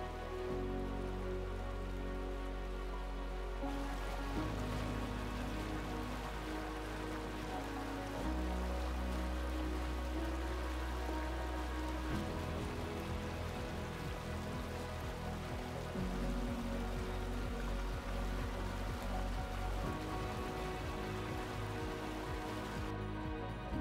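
A spring waterfall in the Carpathian mountains of Ukraine gives a steady, dense rushing roar throughout, with a low, sustained musical drone running beneath it.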